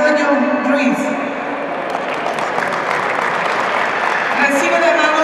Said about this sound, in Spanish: Al maestro, el fuerte aplauso